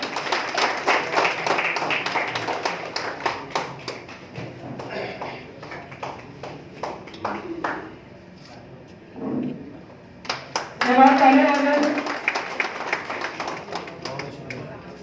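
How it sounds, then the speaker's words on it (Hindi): Clapping from an audience at an evening awards ceremony honouring social workers, held at the Academy of Fine Arts, with a burst of scattered claps at the start that fades under an announcer's voice. "जोरदार तालियां।"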